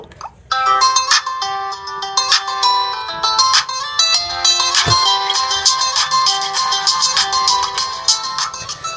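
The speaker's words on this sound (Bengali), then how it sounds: "ফোনটির যে রিংটোনের সাউন্ড সেটা কেমন" A 4G button phone plays its ringtone loud and close: a bright, repeating electronic melody with clear pitched notes that cycles steadily for several seconds.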